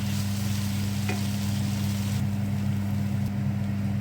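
Potato pieces fry with ginger garlic paste, giving a constant loud sizzle over a low steady hum, with one brief utensil tap early on as the mixture is stirred.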